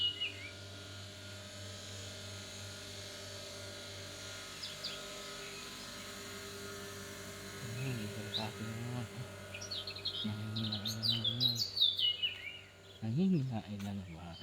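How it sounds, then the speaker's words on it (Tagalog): Birds chirp and sing softly in a quiet, deserted spot, with pigeons feeding nearby. Their low coos rise in short bursts toward the end over a steady bed of insect buzz, with no talking. "Ang mga huni ay sariwang sariwa."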